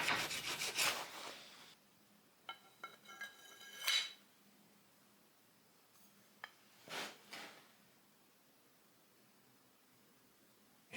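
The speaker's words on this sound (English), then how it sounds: "it still needs more filing" A bowie knife blade is worked by hand with a file, giving a few separate rasping strokes and scrapes with quiet pauses between, close and fairly soft.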